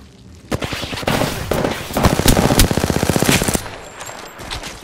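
Rapid automatic weapon fire in the Apex Legends video game, loud close bursts of evenly spaced shots rattling for about three seconds before a quieter tail.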